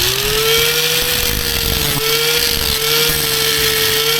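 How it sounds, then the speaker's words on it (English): Angle grinder rounding over the corners of metal parts for a kart, a loud steady high-pitched whine that runs without pause and fills the whole stretch, with no talk. "I'm just going to round over these corners with the angle grinder"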